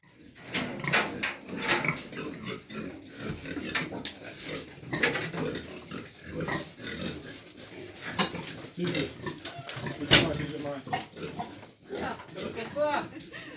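A sow being moved into a new pen on a farm, with grunts and squeals among shuffling and clatter while people talk nearby throughout.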